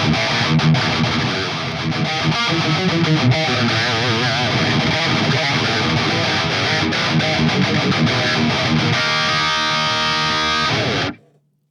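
Heavily distorted high-gain electric guitar through a Mercuriall 6160III 5150-style amp plugin, blue channel, with parametric EQ and gate, chugs and riffs loudly, dense and saturated, then cuts off sharply near the end.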